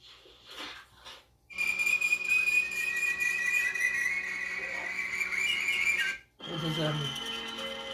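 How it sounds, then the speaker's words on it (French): Jaco, a pet parrot, whistles along with music in a home, a long loud sustained warbling whistle with wavering pitch after a few short chirps, then breaking off into a softer chattering call. "Ça c'est quand il siffle en même temps que la musique."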